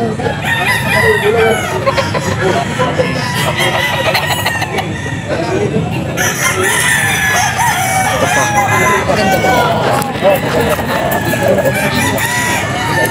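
A young rooster crows amid a noisy pet market, with loud crowing and clucking from several fowl over busy crowd chatter that runs throughout.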